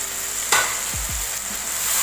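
Ground spices sizzle in a hot pan for butter chicken, a close, steady fry with a quick scrape of stirring and a few brief clatters, no voices.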